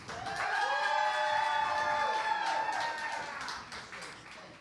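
Comedy show audience clapping and cheering between rounds, a broad wash of applause with some whoops, steady then tapering off near the end.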